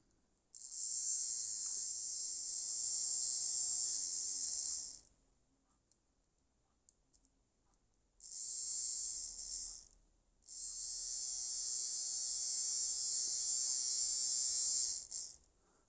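A small electric motor from a Piko BR64 model locomotive, made in the DDR, runs freshly lubricated and reassembled, giving a smooth, high-pitched whirring buzz in three separate runs with short quiet pauses between them.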